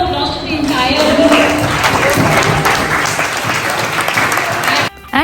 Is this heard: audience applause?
yes